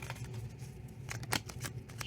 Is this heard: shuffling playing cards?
yes